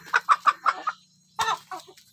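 Free-range village chickens on a small farm cluck in a quick run of five or six close calls, pause, then give a few more softer clucks, clear and near with a faint low hum beneath.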